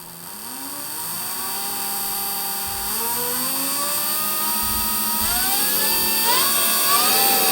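A VEVOR belt sander grinder motor spins up to high speed, a steady loud whir with rising tones as it accelerates, running alone without speech.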